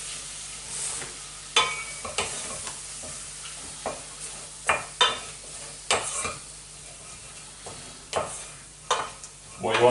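Onions sizzling in a frying pan while being stirred for a squirrel in creamy mustard sauce: a steady hiss punctuated by repeated scraping, clinking stir strokes, close and clear.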